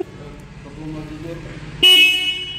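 A new Hero Xtreme 125R motorcycle sounds its horn in one sudden, loud, sustained blast after a low idling rumble.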